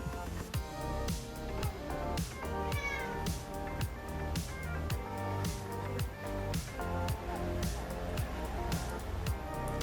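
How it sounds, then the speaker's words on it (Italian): A cat meows repeatedly as it wanders around indoors, its drawn-out cries standing out over a dense, busy background. "come sentite ho sempre il gatto che gironzola intorno"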